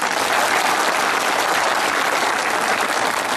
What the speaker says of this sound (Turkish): Bütün siyasi partilerimize de alkış istiyoruz